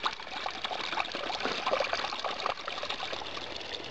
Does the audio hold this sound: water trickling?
yes